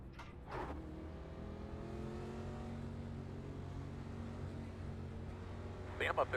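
Race car engines drone steadily at moderate volume in a stock car racing video game at Phoenix, with a continuous revving tone and a brief burst of noise at the start and end.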